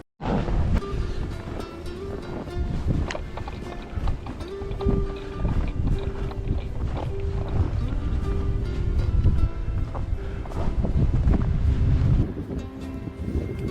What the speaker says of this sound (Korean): 능선을 타고 몰아치는 거센 바람 소리는 역시 소백은 소백이란 느낌이다